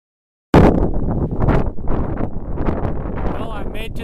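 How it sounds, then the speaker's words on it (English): Gusty wind roars across the microphone on a mountain summit near Glacier Lake and the Grouse Ridge area, loud and close, with rough buffeting swells and a brief lull, starting abruptly after a moment of silence. "Well, I made it to the top. It's a little windy."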